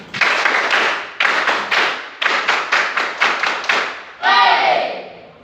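A school class claps the 3-3-7 rhythmic cheer before a mathematics lesson, loud bursts of synchronized hand claps in grouped patterns close by, ending with voices calling out together.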